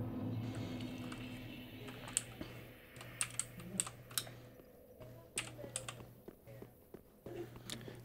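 Fast, close clicking of a computer keyboard during a gaming session, sharp keystrokes in irregular bursts over a faint steady hum, with no talking.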